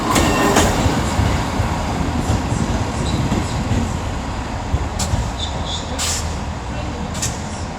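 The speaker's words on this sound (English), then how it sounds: "here's 158829 coming in, working the 11:30 Transport for Wales service from Cardiff Central to Holyhead" A Class 158 diesel multiple unit pulls into Shrewsbury station on a Transport for Wales service, a steady rumble of engine and wheels on rail filling the clip, with brief higher squeals and clatter near the end.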